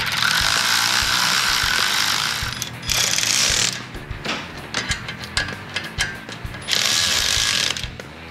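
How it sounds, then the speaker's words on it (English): A ratchet tightens the exhaust mounting bolts on a CFMoto ZForce 1000 during an Attitude Industries Punch It exhaust install. Close, loud bursts of rapid clicking come in three spells, with quieter mechanical clinks between them and no talking. "put it in an easy location so you can get your ratchet in on both sides"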